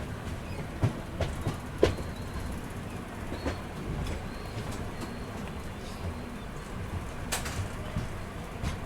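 The Haripriya Express train carriages roll into a station with soft clickety-clack and scattered clanks over a steady rumble, with faint birds in the background, during monsoon rain.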